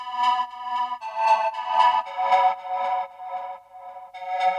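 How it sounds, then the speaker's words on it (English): A bright, chiming synthesizer tone plays a short sequence of ringing notes, each with a clear bell-like shimmer and gentle decay. "I decided to layer with this one sound here, which is bell-like."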